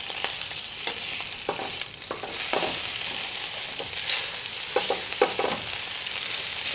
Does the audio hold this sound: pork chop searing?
yes